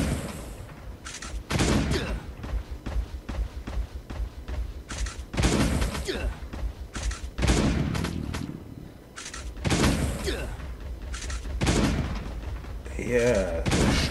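Shotgun blasts in the survival game Last Day on Earth, a series of loud, sharp broadband bursts spaced irregularly across the stretch, with heavier clustered shots near the middle and end.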